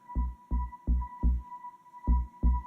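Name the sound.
electronic bass kick drum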